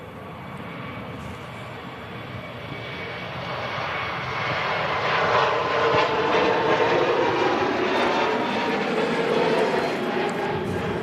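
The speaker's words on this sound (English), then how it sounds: "Turkish A321neo is departing Manchester" A Turkish Airlines A321neo jet departing Manchester Airport, a steady roaring engine rumble that swells over several seconds into a strong, sustained takeoff thunder, heard from a distance outdoors with no talk.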